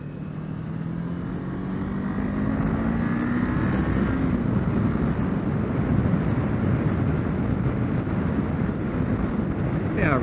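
Kawasaki Ninja 500 motorcycle riding on a highway at just under 40, a steady engine drone with rising pitch as it rolls on, wrapped in loud continuous wind rush throughout.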